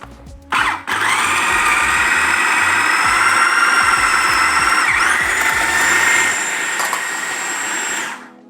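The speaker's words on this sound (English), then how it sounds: "So we've got roughly 6 to 7 candle nuts here going into the processor." A food processor blends six to seven candle nuts with ten garlic cloves into a paste, a loud steady whirring motor with rattling chopping that starts abruptly, runs continuously for several seconds, then cuts off.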